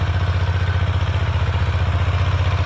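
A home-converted single-cylinder walking tractor, rebuilt for riding and used for ploughing and harrowing, chugs steadily up close, its engine beating in a fast, even, regular rhythm with a clattering edge and no voices.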